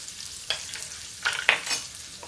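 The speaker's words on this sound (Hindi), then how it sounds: "प्याज भून लेते हैं, प्याज लहसुन दोनों" Onion and garlic frying in a pan with red chilli for a Rajasthani dal tadka: a steady, low sizzle with brief stirring scrapes, close by and with no one talking.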